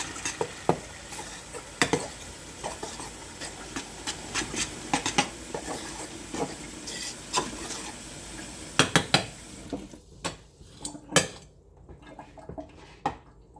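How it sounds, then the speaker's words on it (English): Pasta being stirred in a metal pan for a rainbow trout and cheese curry dish, with repeated clinks and scrapes of a utensil against the pan and a faint sizzle, close and steady, without talk. "Stir it up."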